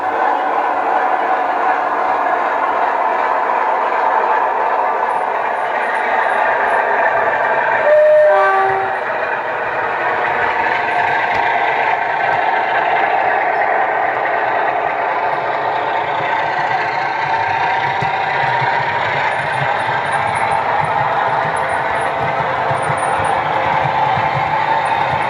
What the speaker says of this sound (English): that's a run past my MOD train